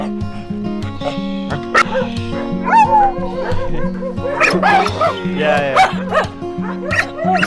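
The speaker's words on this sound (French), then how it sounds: "ça aboie un petit peu, c'est normal." Several stray dogs at a shelter in Morocco barking, yipping and whimpering in bursts, close and loud, with a person briefly speaking among them.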